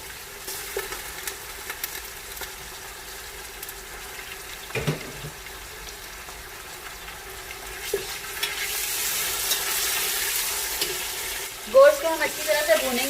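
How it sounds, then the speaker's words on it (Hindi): Mutton fries with golden-brown onions and ginger-garlic paste in a pot, giving a faint, low sizzle with occasional stirring clatter that grows into a louder hiss toward the end. "गोश्त को हम अच्छी तरह से भूनेंगे।"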